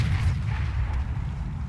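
Tank gunfire striking the player's tank in World of Tanks, a heavy low boom followed by a rumbling, dense low-end wash that lingers and slowly fades.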